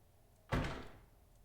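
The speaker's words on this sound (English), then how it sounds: "Is it the door that I'm hearing?" A door in the horror game Alone in the Dark swings slowly shut and thuds closed at the last moment, one heavy, low slam followed by a short fading rumble in a quiet room.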